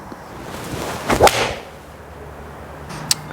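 A single sharp swoosh and crack of a TaylorMade SIM2 Rescue golf club hitting a ball, followed by a faint distant tick a couple of seconds later.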